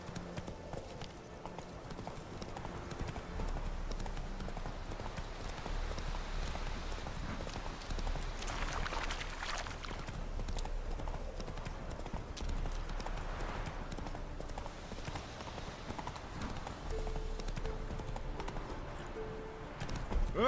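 A horse gallops without a break in The Witcher 3 Wild Hunt, hoofbeats blurring into a continuous muffled rumble that stays fairly quiet and even for the whole stretch.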